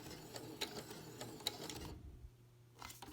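A sewing machine back stitching elastic on a face mask, a quiet rapid mechanical whirring with small clicks that pauses briefly and then starts again.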